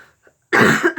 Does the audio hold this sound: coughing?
yes